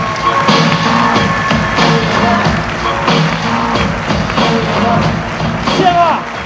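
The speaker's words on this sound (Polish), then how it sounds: "brawa. Z Gryfic, Paweł Chałupka!" A comedy club crowd in Sopot claps and cheers as a stand-up comedian takes the stage, a loud sustained roar with shouts and whistles and no clear speech.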